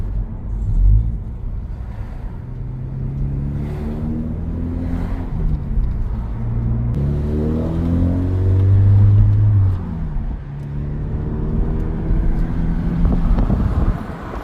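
A 2024 Mazda 3 Sport GT with a Borla axle-back exhaust drives along, its low engine drone rising and falling through gear changes over steady road and wind noise, heard from inside the car.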